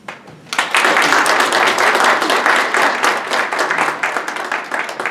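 Audience applause at a school board candidate forum, a loud, dense burst of many hands clapping that starts abruptly after a brief moment and stays sustained throughout.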